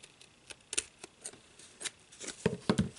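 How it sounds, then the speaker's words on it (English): Scissors snip through cardboard in short, irregular crisp cuts, close and fairly quiet, growing denser and louder toward the end. "I'm just gonna lay my scissors against the cardboard and cut."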